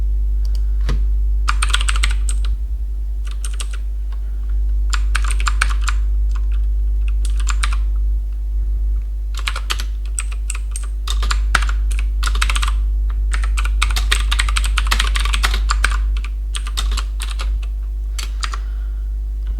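Rapid bursts of typing on a computer keyboard while entering TeX code, clicky keystrokes coming in clusters with short pauses between them, close and clear over a steady low hum, no voices.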